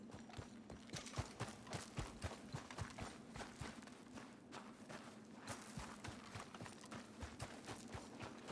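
Steady rhythmic clip-clop of a horse's hooves on a hard surface in Red Dead Redemption, continuous and close, over a faint low background hum.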